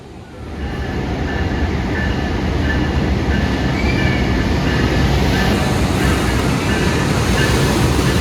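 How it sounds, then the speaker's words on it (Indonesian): A Sancaka passenger train from Yogyakarta to Surabaya rumbles past nearby in Indonesia, a steady loud roar of wheels and carriages with faint squealing, continuing without a break. "Kereta api Sancaka dari Yogyakarta tujuan Surabaya Timur."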